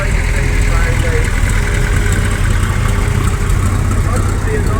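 A vintage six-cylinder David Brown tractor with two separate cylinder heads runs in a show-ring parade, giving a loud, steady, rumbling engine drone that holds unbroken throughout.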